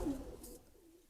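Pigeons of a big-breeder Ababeel line coo softly in a short, low murmuring burst that fades over about a second, with no talk.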